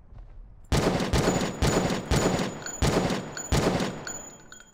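Rapid bursts of video-game gunfire aimed at dinosaurs in a Jurassic Park game, six loud, evenly spaced volleys with a faint high electronic tone behind them and no talking.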